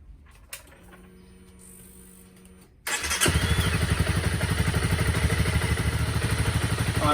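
Honda CBR250R motorcycle engine cranks and catches after a quiet moment with a faint whine, then settles into a loud, steady idle running close by.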